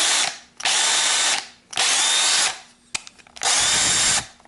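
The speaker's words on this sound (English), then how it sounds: "If you want to put it to the drill," A Craftsman V20 cordless drill whirs in three loud, even bursts, each spinning up, holding a steady high whine, then winding down, with short pauses and a small click between.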